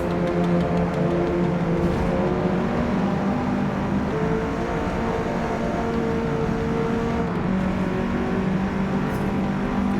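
Race car engine in a racing video game at Maple Valley, holding steady loud harmonic drone for a full lap stretch, pitch stepping between gears as speed builds toward the straight, with other cars' engines layered in.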